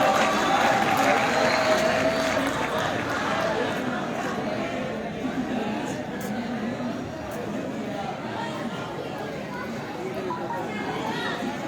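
An audience at a student speech competition applauds a community college contestant. Sustained, close, dense clapping with some crowd murmur lasts throughout, strongest at first and easing slightly toward the end.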